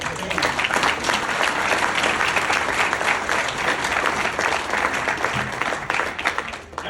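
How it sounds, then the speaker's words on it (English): Loud, dense applause from an audience at a Hall of Fame introduction ceremony, sustained steady clapping that fills the room for several seconds without a break. "I think another round of applause for the family."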